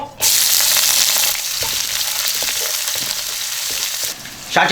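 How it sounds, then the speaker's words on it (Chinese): Ginger and garlic hit hot oil in a wok with a loud, steady sizzle that bursts in at once and runs throughout, with a brief dip in the middle and a fresh crackle near the end. "姜蒜下锅"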